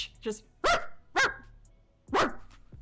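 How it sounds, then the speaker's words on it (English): A small Chihuahua barks three times in sharp, high yaps spaced about half a second apart, loud and close, with a short lower yelp just before them. "as you duck your head, the dog starts barking"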